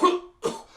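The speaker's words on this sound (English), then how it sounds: "please can you stop coughing?" A man coughs while choking on coffee: two short, close, harsh bursts in quick succession, with no talking.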